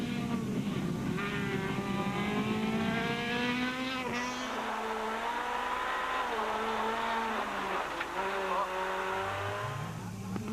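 A Volkswagen BP Ultimate Polo rally car engine revs hard and climbs through the gears, loud and sustained, with a commentator talking over it.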